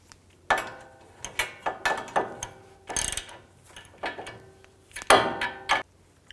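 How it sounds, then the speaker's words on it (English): A ratchet wrench with an 18mm socket tightens the tie rod nut on a 2007-11 Honda CR-V, giving a series of sharp, separate clicking pulls spread unevenly across the clip. "Tighten the nut up. Use an 18mm socket."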